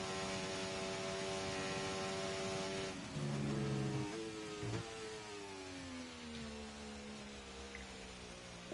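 A McLaren Formula 1 car in a racing video game at the Spain round, its engine a steady tonal whine that shifts pitch as it comes through the final corner and down the main straight, heard alone.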